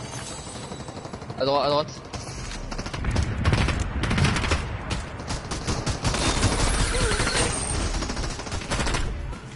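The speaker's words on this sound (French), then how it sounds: "Ça tire en face." Enemy gunfire in a video game rattles steadily in dense overlapping volleys throughout, fairly loud, while players speak over it.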